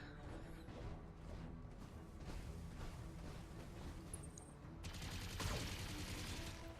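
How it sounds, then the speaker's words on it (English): Machine gun fire pounds a mech in the BattleTech video game, a dense continuous rattle of rapid shots that swells louder and harsher near the end, with no voices. "Are you serious with a machine gun?"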